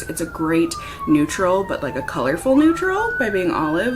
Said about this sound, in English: Sorry for the sirens. I hope everyone's okay.